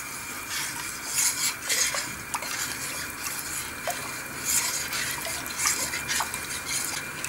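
A cleaning mixture being stirred in a metal pot, with a utensil scraping and clinking against the sides in uneven strokes, some sharp knocks standing out, over a steady background hiss.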